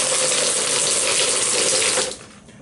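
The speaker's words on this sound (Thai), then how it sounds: "ใส่เสร็จปุ๊บ เปิดน้ำนะครับ" Water gushes loudly and steadily from a tap into a basin while a wig is washed, then cuts off abruptly after about two seconds, leaving quiet trickling.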